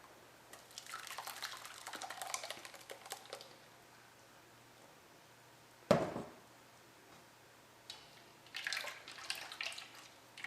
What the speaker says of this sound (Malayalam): ഇതിലേക്ക് നമുക്ക് തേങ്ങാപ്പാൽ ഒഴിക്കാം